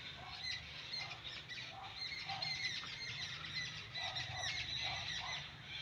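Agitated birds call out in alarm around nests a cat has attacked, a continuous chorus of shrill, overlapping squawks and chirps at moderate distance, fairly faint overall with no talking.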